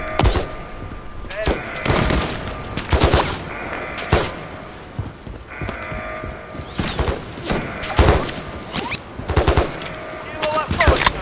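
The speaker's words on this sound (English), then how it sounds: "The sentry gun." Automated sentry gun in Call of Duty: Modern Warfare 3 (2023) on the Gorm Dam mission, firing in repeated sharp bursts of rapid gunfire with thuds mixed in, loud and close throughout the game action.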